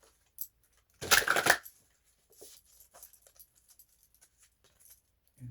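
A deck of oracle cards being shuffled, one short burst of riffling near the start followed by soft, scattered card taps and rustles, close and quiet.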